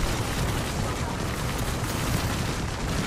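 Artillery strike explosions in the game Apex Legends roll in as a dense, continuous barrage of loud booms and rumbling blasts that fill the whole stretch, with a voice faintly underneath.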